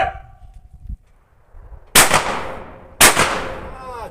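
Gunshots at an airsoft shooting range in Corsica: two sharp, loud shots about a second apart, each with a short ringing decay, after a quieter stretch.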